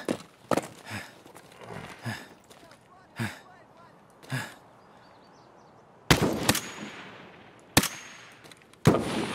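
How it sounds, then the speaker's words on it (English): A flashbang grenade in Escape From Tarkov bursts sharply and leaves a thin ringing tone, amid scattered gunshots and footsteps, with a person talking intermittently. "Oh, he threw a flash."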